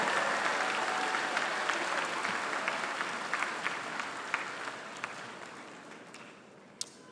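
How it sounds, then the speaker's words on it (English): A commencement crowd applauds the 2023 online MBA graduates, sustained clapping that gradually thins and softens toward the end, with a few sharp individual claps standing out. "One more round of applause for the 2023 graduates of the online MBA program."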